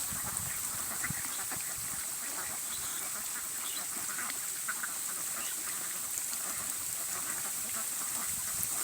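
Male and female ducks by a river quack in scattered bursts against a constant noisy outdoor background, some distance from the listener.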